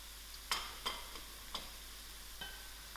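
Garlic frying with softened onions in a pan gives a faint, steady sizzle, broken by a few soft utensil taps and scrapes. No one speaks.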